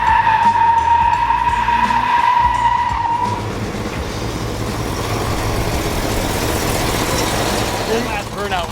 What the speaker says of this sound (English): Man, you did a good burnout.